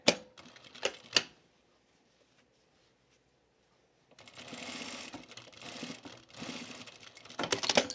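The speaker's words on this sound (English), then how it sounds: "So now let's understitch this, put my understitching back." Sewing machine understitching a dress facing, a rapid mechanical stitching burst at the start, then near silence, then a longer run of steady whirring stitches resuming, close by without speech.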